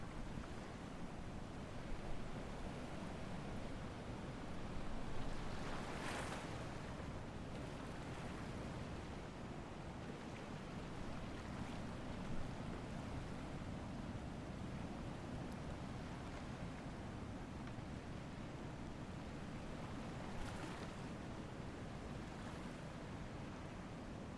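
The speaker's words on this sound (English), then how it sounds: "Getting a lot of water coming over the side." Ocean waves wash and surge steadily around a sailing boat out at sea in a sailing game, a continuous loud broadband rush with occasional swells, no voices.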